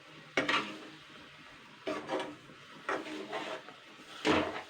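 Sweet-and-sour tamarind pickle is stirred in a pan as it cooks down, with several separate scraping strokes over a soft sizzle, close by and with no talking.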